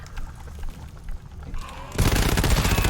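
A monster firing in the video game GTFO: a dense, loud burst of rapid gunfire bursts in abruptly after a low ambient rumble and keeps pounding to the end.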